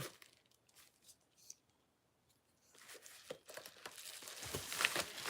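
A paper envelope is torn open by hand: a quiet stretch of soft handling, then louder crinkling and ripping paper bursts close by with no talking.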